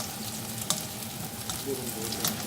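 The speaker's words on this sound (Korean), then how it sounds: "달군 프라이팬에 기름을 넣고" Oil and garlic sizzle in a preheated frying pan, a steady close crackle with small pops and spatters scattered through it.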